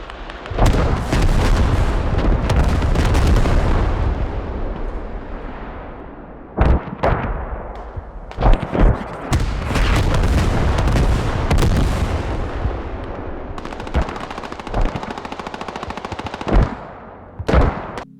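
Video game artillery barrage called onto a capture point, with loud rapid gunfire and heavy booming impacts in dense bursts, a few short gaps of near-silence between volleys, and no talking.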